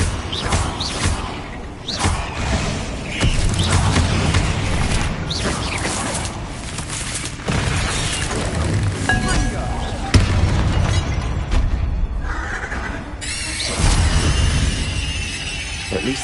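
A Confringo spell explosion in the Hogwarts Legacy video game bursts as a loud boom inside a tomb, amid dense, continuous game sound with repeated heavy thumps and crashes, and a voice speaks during it.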